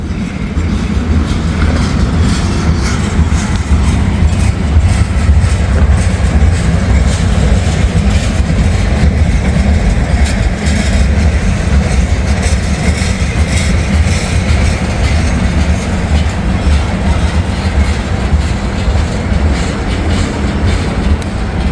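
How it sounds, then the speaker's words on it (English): A freight train carrying propane tank cars rolls past close by, a loud, continuous heavy rumble with a steady clickety-clack of wheels over rail joints and no talking. "Here's the end of the train."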